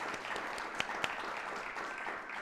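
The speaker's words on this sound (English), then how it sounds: "applause for the author." Steady audience applause for an author at a talk event fills the whole stretch, a dense even wash of clapping with a couple of sharper individual claps standing out near the middle.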